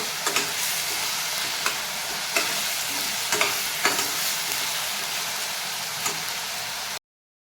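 Paneer, cabbage and spring onion stir-fry in a hot pan with sauces, a constant loud sizzle broken by repeated sharp clinks and scrapes of a spatula against the pan, then sudden silence near the end.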